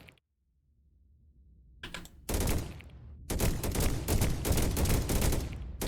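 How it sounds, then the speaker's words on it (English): Shotguns firing in Deep Rock Galactic, loud repeated blasts in quick succession after a quiet start, dense and close, with no talking. "the one problem with the shotguns is they're very loud compared to the other guns"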